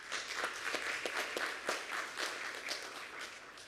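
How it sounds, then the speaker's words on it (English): An audience at a teacher of the year ceremony applauds in a steady round of clapping, a dense continuous patter of many hands at moderate level throughout. "A little round of applause for them."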